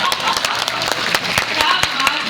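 Scattered applause from an audience at a Hindi poetry gathering (kavi sammelan) in Shravasti, a steady patter of claps with sharp individual hand strikes, fairly close and moderately loud.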